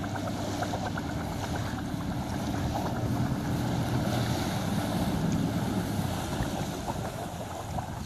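A boat's engine drones steadily over the wash of waves and wind on the open sea near Fethiye, Turkey, continuous and fairly close, with no voices.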